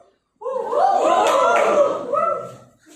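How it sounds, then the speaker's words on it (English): A crowd at a speakers' forum lets out a loud, sustained shout of many voices, swelling after a brief silence and holding strong for about two seconds before tailing off. "can I get a loud shout from this crowd?"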